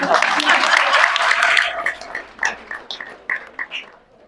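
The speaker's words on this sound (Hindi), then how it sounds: "ताली बजाओ।" Audience members clap at a Gita school gathering on a dedication day. A burst of loud, dense clapping lasts about a second and a half, then someone speaks with no clapping behind her.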